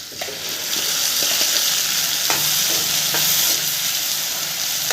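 Bitter gourd sautés in hot oil with a ground onion, tomato, garlic and curry leaf paste, a loud continuous sizzle broken by several sharp spoon scrapes against the pan, close up.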